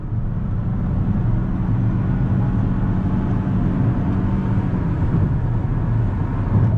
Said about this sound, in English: we're gonna get on the highway and see how this Avalon glides down the road